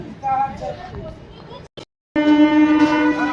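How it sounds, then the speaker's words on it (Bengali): A local train entering a station rumbles and hums with a steady tonal drone, broken by a brief dropout, while voices and station noise carry on around it. "আমাদের ট্রেন চলে এসছে বজবজ লোকাল স্টেশনে ঢুকছে।"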